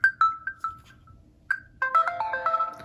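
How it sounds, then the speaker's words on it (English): The Windows Phone Lattice ringtone plays from a Nokia Lumia prototype: a few bright plinking notes, a pause, then a denser run of chiming tones, clear and close with no talking. "Lattice is actually a very common ringtone for Windows Phone."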